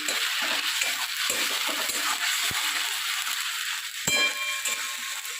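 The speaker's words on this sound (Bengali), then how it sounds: "এক চামচ জিরে গুঁড়ো আর একটা চামচ ধনে গুঁড়ো দিয়ে গাছ মশলাটাকে এবার কষিয়ে নেবো" Cumin and coriander powder fry with spices in a pan, giving a steady, close hissing sizzle with a brief clink of metal partway through and no voices.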